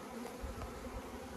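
A soft, steady buzz of honey bees at an open hive, many bees humming together close by, continuous with no voices.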